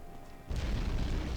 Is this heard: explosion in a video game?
yes